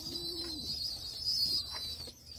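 Native pigeons in a loft house give a steady, close, low cooing that rises and falls over a constant high hiss, with no one talking.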